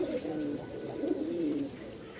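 A male Giribaz pigeon coos in low, throaty rolling phrases, close and fairly soft, repeating several times over a faint background with no speech.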